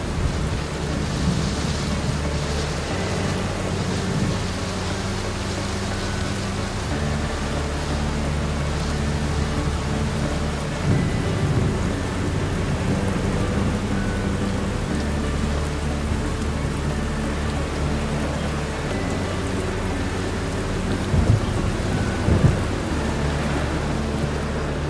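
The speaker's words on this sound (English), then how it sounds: "We've had wind and rain." Steady thunderstorm with heavy rain drumming and low rumbling thunder, wind in the mix, heard from a vehicle parked beside a cemetery in Greece; constant dense wash of noise with a few louder swells, no voices.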